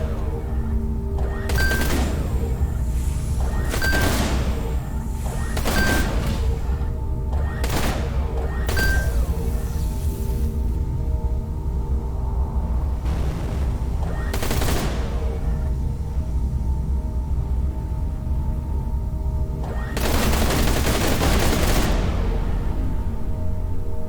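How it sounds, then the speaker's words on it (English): Explosions and bursts of gunfire from the space combat game Everspace 2, several loud booming blasts spaced over a steady engine drone, with a large final explosion near the end. "surely an explosion at the main GNB base here would already be ringing alarm bells"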